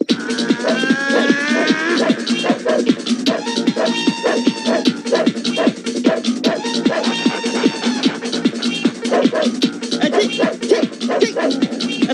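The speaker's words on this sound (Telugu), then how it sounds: "అది నిజం కుక్కదే." Dog barking in a Telugu comedy film scene: a loud, dense run of repeated barks and yelps for about twelve seconds, mixed with low moan-like calls and no clear talk.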